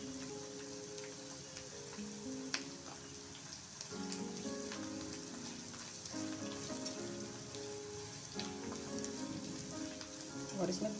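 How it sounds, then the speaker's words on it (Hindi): Onions fry in a pan with Kashmiri red chili, giving a soft, continuous sizzle and crackle beneath background music. "और प्याज को अच्छी तरह से भून लेंगे। प्याज में कलर आने लगा है।"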